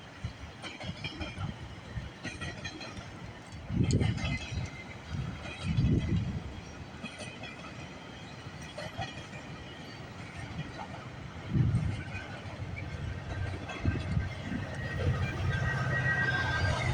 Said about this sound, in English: so that means there's a westbound GO train. There it is.